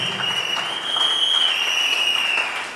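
A church congregation applauds during a sermon, giving a dense, steady wash of clapping and crowd noise that swells slightly midway, with a high sustained tone running through it.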